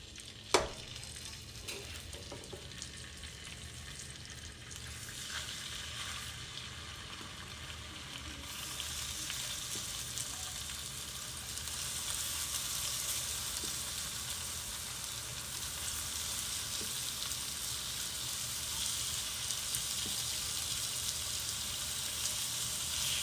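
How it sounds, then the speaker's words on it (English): Simmering sauce for chicken Milano bubbles and sizzles steadily in a pan, with quiet spoon scrapes early on and the frying hiss growing fuller and louder over time; no one speaks. "make sure that you keep stirring your sauce in between while it's simmering"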